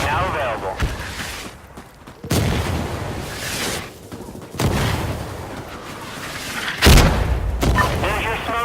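Fire support strike in Insurgency Sandstorm, with heavy booming impacts and rumbling blasts that come in several waves, loud and close, as voices talk over the barrage.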